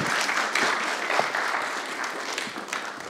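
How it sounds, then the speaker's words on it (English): Audience clapping after the introduction of a plenary mathematics lecture at a joint meeting of the Korean and German mathematical societies, a dense, lively burst of applause from a seated crowd, fairly close and gradually easing. "Please give him a warm applause."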